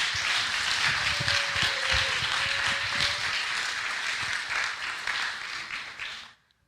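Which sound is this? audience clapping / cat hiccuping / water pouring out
audience clapping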